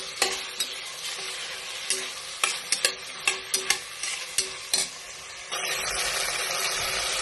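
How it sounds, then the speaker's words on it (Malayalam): Ingredients for Kerala-style beef biryani, including chopped tomatoes, being stirred in a frying pan over steady sizzling, with a run of sharp spoon scrapes and knocks against the pan before the frying noise swells louder near the end. "നമുക്കതൊന്ന് ഇളക്കി കൊടുക്കാം"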